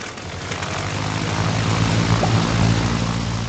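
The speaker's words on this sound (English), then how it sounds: "these propeller planes that are actually arriving are a little bit different from the ones we've got at the moment" Propeller planes arriving in the video game Airport City make a constant whirring engine drone that slowly grows louder and stays steady.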